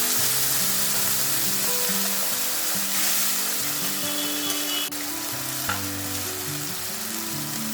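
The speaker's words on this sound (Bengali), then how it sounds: "মূলোর যে ডাটা সব দিয়ে দিলাম। মূলোর ডাটা দিলে খুব ভালো লাগে খেতে। এরপর সামান্য জল দিলাম," Radish stalks and radish pieces sizzling in a pan after a little water goes in, a steady loud frying hiss and crackle up close, with faint background music underneath.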